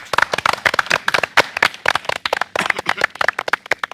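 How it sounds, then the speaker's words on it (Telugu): A crowd claps loudly and continuously at a Jabardasth comedy show stage, sharp hand claps packed in quick uneven bursts with no talking. "ఒకసారి గట్టిగా చప్పట్లు."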